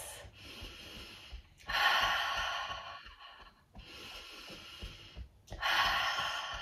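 Slow breath cycles, each a long inhale through the nose followed by a fuller, louder exhale through the mouth, close and unhurried during a gentle morning energy yoga routine, with no talking.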